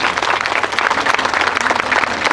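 Loud, sustained applause from an audience fills a church funeral Mass, dense clapping running steadily throughout with no voices over it.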